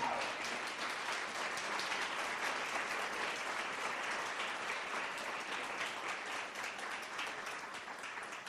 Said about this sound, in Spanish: Dale ese aplauso bien fuerte.